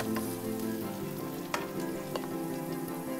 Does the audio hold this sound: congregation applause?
no